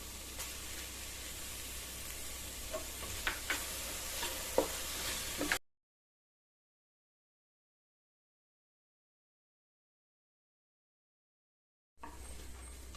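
Tomatoes sautéing in a pan with crushed garlic for Kerala squid ularthiyath: soft continuous sizzle with stirring clinks for about five seconds, then silence before the frying noise briefly returns.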